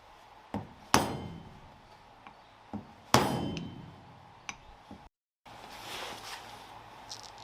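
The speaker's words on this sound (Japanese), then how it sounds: "ちゃんとオイルシールを打ち込むことができました。" A hammer taps an oil seal into the transmission case of a Caterham Super Seven, with a series of irregular metallic knocks. Two blows land harder than the rest, the others are light, and the strikes are close with a short quiet gap near the end.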